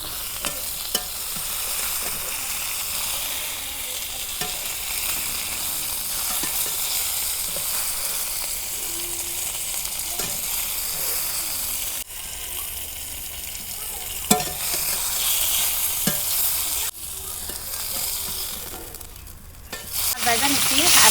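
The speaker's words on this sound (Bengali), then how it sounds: "মাছ ভাজা হচ্ছে, মাছগুলো নামে নেই।" Pieces of kalbaush fish, a Bangladeshi carp, fry in hot oil in a pan for a tomato fish curry. A steady, close sizzle and crackle runs throughout, with occasional stirring and scraping and brief dips where the frying quiets.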